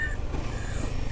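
A Royal Enfield Himalayan 450 motorcycle's exhaust gives a steady, low thumping rumble at close range, pulsing evenly throughout without any voices.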